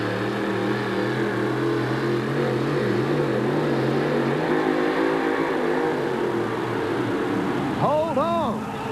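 A 1987 stadium monster truck with two 1,500 horsepower engines roars steadily, its loud sustained drone wavering in pitch, while an announcer talks over it throughout.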